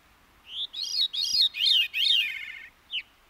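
A Veery sings a clear, fluty song of several rising and falling phrases that overlap as if from two voices, close and prominent over a quiet background, ending with a short separate note.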